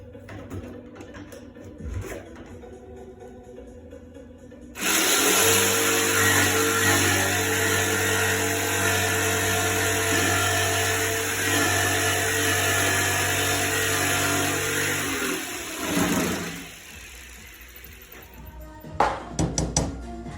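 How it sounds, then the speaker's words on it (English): A jigsaw cuts an aluminum sheet for a replacement truck window in a home garage, a loud steady buzzing rasp of about ten seconds that starts abruptly and then stops, with quieter handling noises before and after. "I gotta cut it with the old jigsaw"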